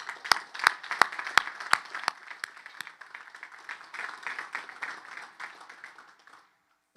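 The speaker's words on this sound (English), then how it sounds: "Let's give them a round of applause." Outdoor audience at a West Point military academy graduation ceremony applauds, loud sharp claps at first over a steady crowd wash that gradually fades away to near silence.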